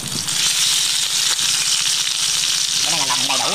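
Duck intestines dropped into a hot pan with ginger give a loud, close, continuous sizzle and crackle of frying, with a brief voice near the end.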